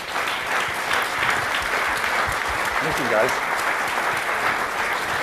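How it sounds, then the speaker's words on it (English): An event audience gives a big round of applause for changemakers. Loud, continuous clapping fills the whole stretch, and a person speaks briefly over it. "Can we give our changemakers a really big round of applause?"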